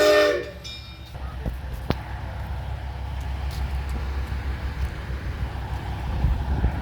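Virginia City tourist train standing at the station, a steady low rumble throughout, with a brief whistle-like tone near the start and a sharp bang or clank a couple of seconds in, under faint background noise.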